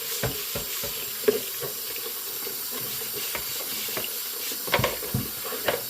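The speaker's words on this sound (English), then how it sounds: "hit one more little bit of spritz of soap in there. And then come back around and scrub it" An air fryer basket gets scrubbed with soap under a running tap, a steady hiss of flowing water with irregular close scrubbing rubs and light knocks of the basket in the sink.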